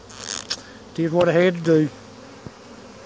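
Honeybees buzz near the microphone around an opened, tightly packed hive box, a single droning pass that rises and falls briefly. Someone speaks around it.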